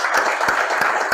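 A group applauds goalkeeper Toby Bull after a session, with brief, steady clapping and a soft wash of crowd noise, fairly close.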